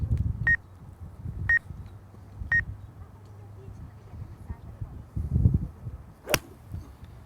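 Three short, sharp electronic beeps at a steady one-second rhythm cue the start of a golf swing on a practice range, followed by the crack of the club striking the ball, with faint low background murmur.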